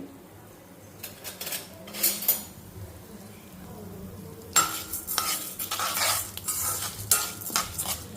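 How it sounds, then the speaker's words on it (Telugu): Urad dal and chana dal are fried in hot oil and stirred, with soft metallic scrapes and clinks of a spoon against the pan over a faint sizzle, quiet at first and then louder and busier. "నేను ఇప్పుడు ఇందులో ఫస్ట్ మినపప్పు శనగపప్పు అయితే వేసేస్తున్నాను సో ఇవి కొంచెం మనం ఫ్రై చేసుకోవాలి"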